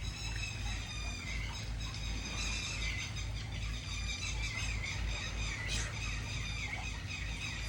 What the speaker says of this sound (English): Hopefully you can hear those birds